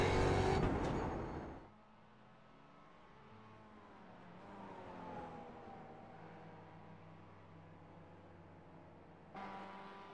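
Mazda MX-5 race car lapping the 3.76 km Belle Isle street circuit in Detroit, a loud engine burst at the start easing into a steady, fainter drone with shifting pitch, then picking up again near the end.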